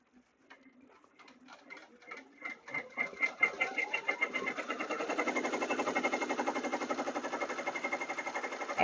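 Embroidery machine stitching a baby gift project in the hoop: a few slow, spaced needle taps that speed up into a fast, steady, close mechanical rattle.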